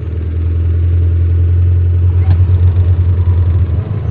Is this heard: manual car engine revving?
yes